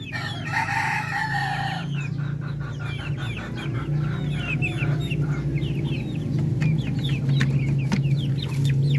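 Darag and upgraded native chickens cluck repeatedly at close range, with a short loud crowing burst near the start and a busy, continuous flock murmur underneath.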